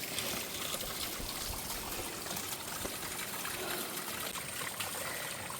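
Fresh, cold drinking water trickles and splashes from a stream near Amburi, a steady close, low-level gurgling wash with no talking.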